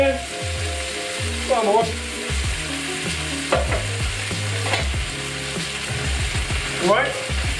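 Tomato puree and chopped tomatoes sizzle loudly in a hot pan, with a steady frying hiss, stirring scrapes throughout and a brief spoken word over the top.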